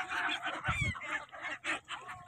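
A flock of Siberian migratory birds calls at Arail Ghat in Prayagraj while being fed, with many overlapping honking and squawking cries in quick bursts, fairly faint against a crowded outdoor background.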